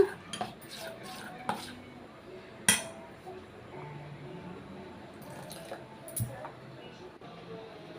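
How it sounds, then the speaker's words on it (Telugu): Batter for elephant foot yam bajji being mixed by hand in a bowl, with soft wet squishing and occasional clinks of a utensil against the dish, fairly quiet and close. "ఇలా శుభ్రంగా కలుపుకోవాలి ఉండలు లేకుండా శుభ్రంగా"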